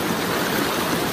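The Vorderrhein, a large mountain river with big stones near Disentis, rushes in a dense, loud, unbroken roar of flowing water close by.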